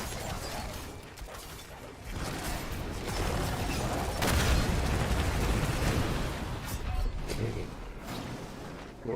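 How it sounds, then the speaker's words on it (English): Elite enemies exploding in Diablo IV on a high Torment difficulty, a dense roar of game blasts and rumbling impacts swelling and fading over several seconds, with a voice faintly under it. "The fucking explosions of the first group of elites."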